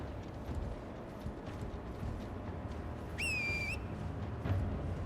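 Horse in the video game Elden Ring, with steady low clip-clop hoofbeats under a continuous rumble, then a sharp rising-and-falling whistle near the end, close and fairly loud, with no talking.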